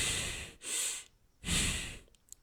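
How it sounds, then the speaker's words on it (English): Two slow, audible breaths in a low (belly) breathing breathwork demonstration, each a soft airy inhale or exhale lasting about half a second, close and quiet with a brief pause between. "And then there's low breathing"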